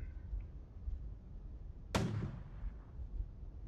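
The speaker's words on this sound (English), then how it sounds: "That's a big rocket." A big rocket launched in the FTL Star Trek mod: one sudden loud blast that trails off into a fading whoosh over a low, steady rumble of game background.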